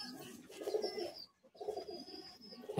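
Madrasi high-flying pigeons from Kolkata coo inside a loft: two sustained, burbling coo bouts up close, broken by a near-silent pause in the middle.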